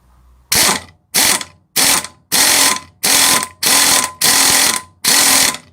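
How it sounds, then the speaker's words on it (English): A ratchet turns a socket to press a bush into a Mk1 VW Touran 1.9 TDI. Eight loud, evenly spaced bursts of clicking come up close, each ending in a short pause. "ratchet this and that'll pull that bush further in"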